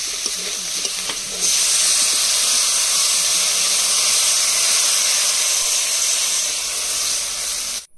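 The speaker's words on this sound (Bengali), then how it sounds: "আবার জল দিয়ে দেবো।" Water poured into a pan of hot fried taro and spices bursts into loud, steady sizzling and steaming hiss after a brief stir, holding strong until it cuts off at the end.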